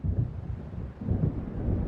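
Deep rumbling thunder from an approaching storm in Alan Wake, low rolling swells that rise and fall over two seconds with a windy, stormy backdrop and no voices.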